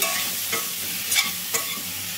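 Green chillies and asafoetida fry on high flame, a bright continuous sizzle broken by a few sharp stirring scrapes at uneven intervals.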